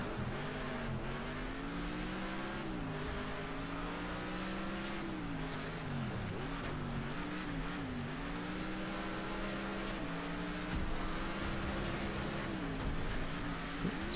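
Race cars in Next Car Game (pre-alpha) speed around a tarmac track, engines droning and rising and falling in pitch with gear changes, loud and continuous throughout with no talk.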